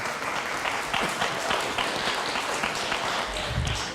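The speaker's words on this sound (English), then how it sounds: "Yes, please applaud." A university audience applauds at the start of a venture prize competition seed round, a steady, full spread of clapping throughout with a few sharper claps standing out near the end.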